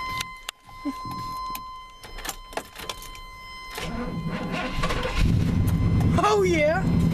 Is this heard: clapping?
no